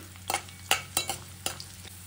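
Garlic frying in a pan until golden, heard as soft sizzling with a handful of sharp scraping and stirring clicks from a utensil, close and quiet.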